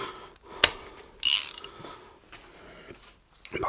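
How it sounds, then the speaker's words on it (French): A large ratchet clicking and ratcheting as it works loose bolts on a Hemi engine cylinder head, short bursts of metallic clicks with a louder grinding stretch, close up amid quiet shop sounds. "je vais essayer du coup avec un grand cliquet"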